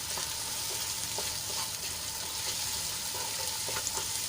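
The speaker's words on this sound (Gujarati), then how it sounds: "ડુંગળીને આપણે ઢાંકીને સંતળાવા દઈશું તો ડુંગળી આપણી ગુલાબી રંગની થઈ ગઈ છે" Onions sautéing in a pan with salt stirred in, a steady close sizzle and hiss running throughout with soft scraping strokes of stirring.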